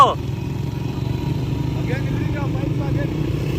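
A motorcycle engine drones steadily nearby during a mountain marathon race in Azad Kashmir, with a low rumbling tone, while a voice is heard faintly over it.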